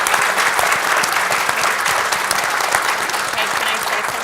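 Steady, loud audience applause fills a roundtable event room from start to finish, a dense wash of many hands clapping without letup.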